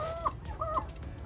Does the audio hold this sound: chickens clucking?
yes